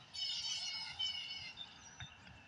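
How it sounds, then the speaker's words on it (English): Birds singing outdoors, a cluster of high chirps and warbling tweets that are soft and moderately distant, fading toward the end over a low background rumble. "Listen to the birds. Listen to the birds."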